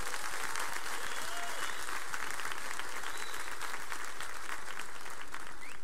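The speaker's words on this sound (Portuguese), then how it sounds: "Você pode aplaudir a Jesus?" A church congregation at a Curitiba youth service applauds, a dense and sustained roar of clapping from a large crowd, steady throughout with faint voices mixed in.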